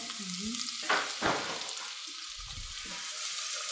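Onions fry in peanut oil in a pan, a soft steady sizzle broken by a few scraping stirs and light utensil knocks, close and moderately quiet.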